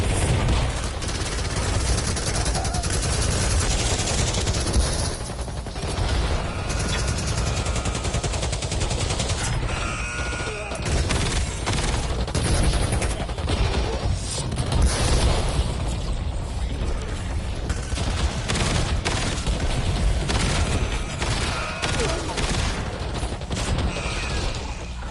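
Gunfire in the video game Black Ops 7, played on PS5 with a new LMG: continuous loud bursts of automatic fire and booming impacts run unbroken through the whole long stretch, with only brief dips and no talk.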